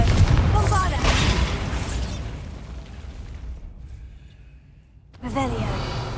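Confringo and Bombarda spells in the video game Hogwarts Legacy blast with a broad explosive burst, the rumble fading into near quiet before a second blast erupts; a voice is heard around them.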